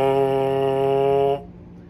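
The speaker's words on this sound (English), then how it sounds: "I'm going to bring the mouthpiece to my lips and I'm going to do that same sound" Lips buzzing into a trombone mouthpiece held away from the instrument, a single steady, reedy, nasal tone with rich overtones lasting over a second before stopping abruptly.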